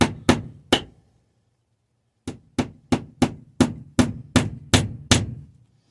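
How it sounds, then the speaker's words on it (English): A hammer drives a nail into a board while preserving wild turkey wings with borax: three sharp strikes, a pause, then a steady run of about nine close, loud blows, with no talking. "And of course, with the hammering,"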